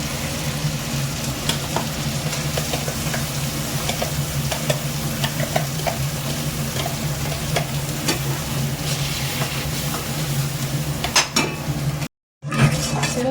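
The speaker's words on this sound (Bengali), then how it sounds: "তেল না ছাড়া পর্যন্ত এটাকে এইভাবে নাড়তেই থাকবো" A wok of spice paste with poppy seed frying in oil after shrimp, stirred steadily with a continuous loud sizzle and scraping strokes with light metal clinks, near and without talk, with a brief dropout near the end.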